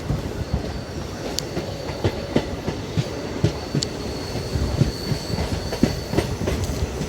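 A DEMU passenger train running between Jalandhar and Firozepur rattles steadily along the track, with continuous rhythmic wheel clatter and occasional sharp metallic clicks, heard loud and close from on board.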